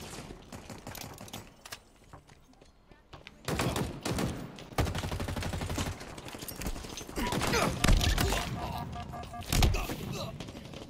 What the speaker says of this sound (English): Oh, it's a DMR.